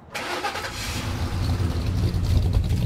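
A 1965 Chevrolet Impala SS with a 396 V8 starts up and is given gas, a steady mid-pitched engine rumble building in loudness and revving close by, with no voices.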